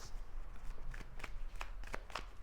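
Tarot cards riffle and slide against each other close by, with a few sharp flicking snaps as cards are shuffled and drawn, quiet and brief over a low steady hum.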